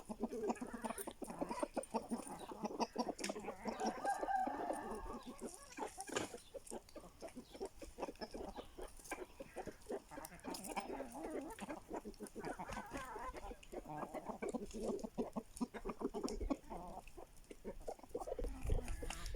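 Aseel roosters on a farm, clucking and calling at moderate distance over a dense, continuous outdoor background with scattered sharp ticks and rustles.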